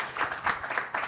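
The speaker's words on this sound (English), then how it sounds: "So I think we should give him a round of applause to begin with." Audience applause at a business panel discussion on financing new-age businesses, a short burst of rhythmic clapping with distinct pulses from a small room full of people, close and moderately loud.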